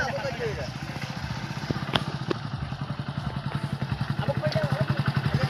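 A motorcycle engine thrums at close range with a steady pulsing idle that grows slightly louder, along with a few clattering thumps, while people talk over it.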